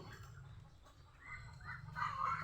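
Clucking and chattering of ducks over a steady low hum, with the calls growing busier and louder toward the end; no speech.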